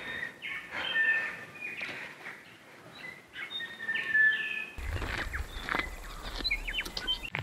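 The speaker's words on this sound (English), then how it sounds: "but their song is so pretty." Several birds singing and chirping along the Mount Robert track in Nelson Lakes National Park, New Zealand, with clear high whistled calls over quiet forest, then denser chirps mixed with rustling steps in the final seconds.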